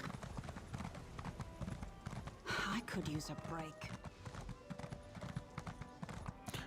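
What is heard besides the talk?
horse hooves clip-clopping, Elder Scrolls Online video game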